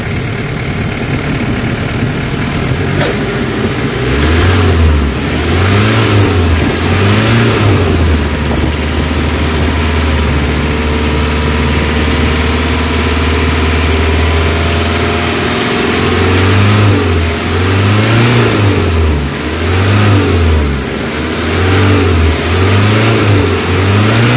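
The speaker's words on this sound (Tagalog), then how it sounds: "So pataasan ko lang yung RPM para mas maganda yung init ng makina." A Nissan Vanette van engine with low power and throttle delay idles loudly nearby, then revs up in repeated short throttle blips, one sustained hold and a later series of quick rises.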